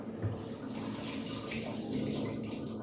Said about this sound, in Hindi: ये जो 2 तुलसी के पत्ते लिए थे इसको मैं धो लेती हूँ